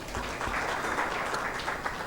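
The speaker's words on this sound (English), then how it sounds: "Let's give them a round of applause." Audience applause for a sponsor at the 2023 PIEA-WLPGA Africa LPG Summit, a steady wash of many hands clapping at moderate volume throughout.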